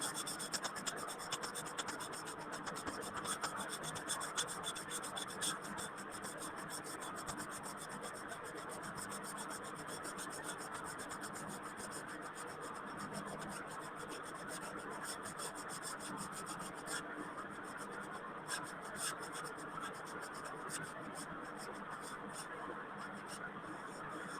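Steady rubbing and scratching of an eraser across a lecture-room board lasts throughout, a continuous close, dry scrubbing texture with no speech over it.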